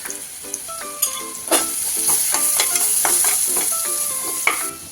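Ginger-garlic paste with garam masala, turmeric and spices sizzles in a hot pan, with repeated spoon stirs and scrapes clattering over the steady frying hiss.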